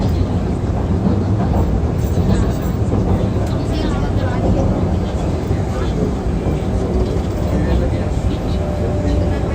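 A moving train in Wuhan, China, gives a steady, loud interior rumble and rattle throughout, with people talking over it.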